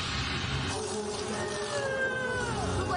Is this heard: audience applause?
no